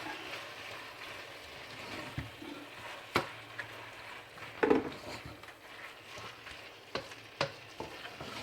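Smoked fish simmers in a pot of biteku teku, a low steady bubbling sizzle, with occasional soft clinks and scrapes from stirring close by.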